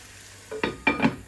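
Raw papaya sautéing in a pan over medium heat, heard as a quiet hiss broken by two or three sharp spatula scrapes near the end.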